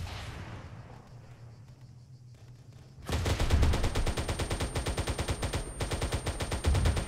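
Video game gunfire erupts after a quiet stretch of low rumble, turning into a loud, rapid, sustained burst of rhythmic shots that continues to the end.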